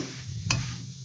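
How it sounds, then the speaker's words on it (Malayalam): A spoon stirs green apple pickle in a pan, one brief scraping stroke over a quiet, faint sizzle, close by with no talking. "ഇതിലൊന്ന് കൂട്ടി യോജിപ്പിച്ച് സിമ്മിലിടുക."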